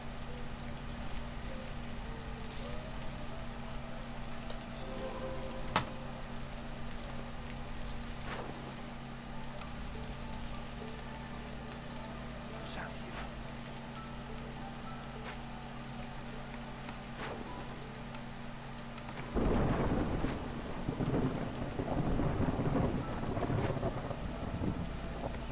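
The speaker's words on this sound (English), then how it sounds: "No, I'm not ready for the storm." Storm in the colony-building game Against the Storm: steady rain hiss with low rumbling wind throughout, a few faint thunder cracks, and a heavier surge of rain and wind near the end.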